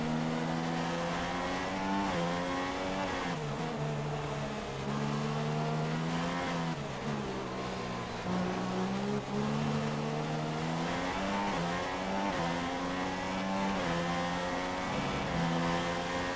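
Formula 1 race car engines scream continuously in the F1 2016 video game, with high-pitched whines rising and falling through gear shifts as the cars accelerate and brake. The sound stays loud and close, with no talking.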